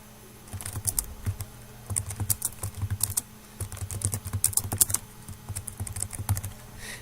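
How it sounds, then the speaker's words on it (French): Email addresses being typed on a computer keyboard: bursts of quick, close, crisp key clicks in irregular runs with short pauses between, no talking. "je peux taper les adresses email d'un ou des destinataires"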